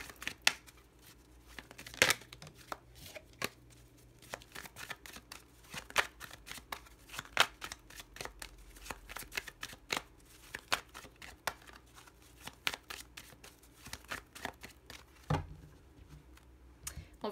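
Lenormand oracle cards being shuffled by hand in a quiet room, a long run of soft riffling and flicking with sharper slaps now and then, close and alone with no talking.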